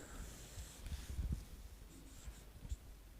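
Marker or chalk writing out the area of a path on a board during a math lesson on perimeter and area, a soft run of scratchy strokes and taps, quiet and close, with no talk over it.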